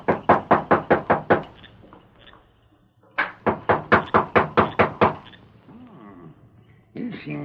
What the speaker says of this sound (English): That's his room overhead. I'll knock.